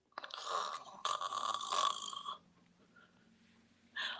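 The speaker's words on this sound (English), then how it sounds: "they hear someone snoring" A snoring sound in a preschool storytime: two close, rough, throaty bursts followed by a quieter lull and a short third rumble starting at the end.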